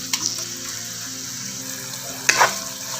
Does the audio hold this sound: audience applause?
no